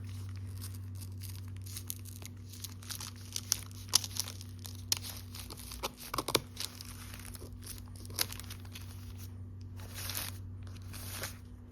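Paper mail package being cut open and unwrapped by hand, with close, quiet bursts of crinkling and tearing paper scattered across the clip against a low steady hum.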